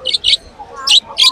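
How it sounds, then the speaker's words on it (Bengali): Budgerigars chirp in short, bright bursts at a Kolkata bird market, four quick calls in a loose rhythm, close and fairly loud, with faint voices underneath. "এদিকে দেখো সব বর্দি পাখি"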